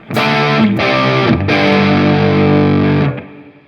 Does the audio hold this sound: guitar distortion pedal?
yes